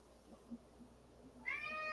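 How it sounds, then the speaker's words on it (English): A cat gives a single drawn-out meow near the end after quiet room noise, clear and fairly close. "Oh, there's my cat."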